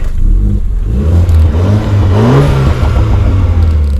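A BMW Z4 engine revs and roars continuously at close range, its low exhaust note rising in pitch midway before settling back to a steady rumble.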